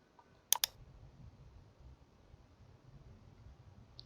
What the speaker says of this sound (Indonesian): Caranya adalah klik pada bagian ini,